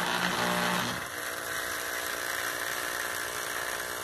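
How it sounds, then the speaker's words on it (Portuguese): A twin-tub washing machine motor runs with a steady electric hum and whine, its pitch shifting about a second in as the load settles into a constant drone. "Aqui é o motor do tanquinho trabalhando."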